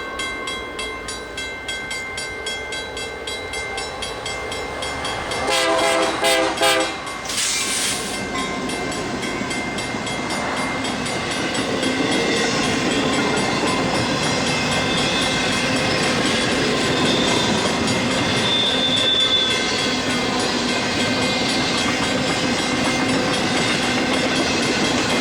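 A Santa Fe freight train rolls past on the Valley Division line near a siding at Riverbank, giving a steady loud rumble with clickety-clack of wheels over rail joints and a brief horn burst early on.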